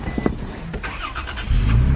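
A new truck's engine starts by push button, a brief starter whir then the engine catching into a loud, steady low idle close by.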